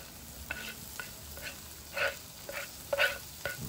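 Shrimp tossed into a hot pan with sprouts and onions: quick, rhythmic stirring scrapes about twice a second over a faint, steady sizzle, close and with no talking.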